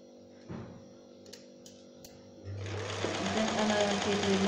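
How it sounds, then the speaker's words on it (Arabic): Sewing machine stitching fabric for a summer outfit, quiet at first with a few clicks and a thump, then a steady fast whirring run of stitches starting midway and continuing loud to the end. "هنا راني نخيط في المونش ومن بعد نعملهم زيكزاك."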